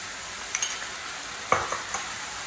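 Cauliflower cooks in sauce in a pan, giving a soft, steady sizzle with a few light scrapes of stirring.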